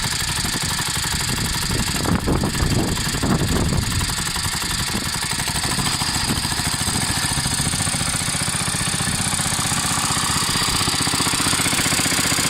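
Oleo Mac Sparta 440T brushcutter engine running nonstop, a loud buzzing two-stroke drone with a rough, rattling surge early on as the throttle is worked, then settling into a steady high idle.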